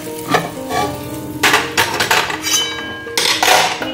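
A spatula stirs a vegetable chop mixture in a pan, making a series of close scraping and clanking strokes against the metal with brief pauses between them, loud and alone without talk.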